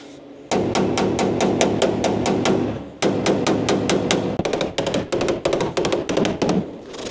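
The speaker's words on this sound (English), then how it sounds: "We are going to tap down some of the high metal here." Hammer tapping down high spots of dented car body metal, a close series of sharp metallic taps in quick bursts, steady at first and then faster and more irregular toward the end.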